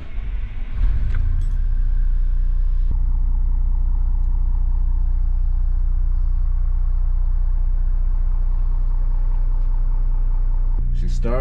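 A 36-foot Class A diesel RV engine cranks and catches, then settles into a steady, low idling rumble up close, with a brief rise in pitch at the very end.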